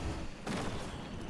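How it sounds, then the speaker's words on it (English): An explosion in the Dungeons and Dragons: Dark Alliance video game, one sharp burst with a rumbling tail over dense, steady game noise. "this explosion does fire damage"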